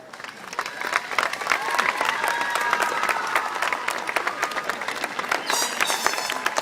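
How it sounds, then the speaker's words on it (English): Sustained audience applause at a middle school graduation ceremony in Merced, California, a dense, steady wash of many hands clapping with crowd murmur and a few cheers mixed in, continuing at even loudness throughout. "Would you give a round of applause to the 2013 Comeback Kid of the Year, Shalise Jones."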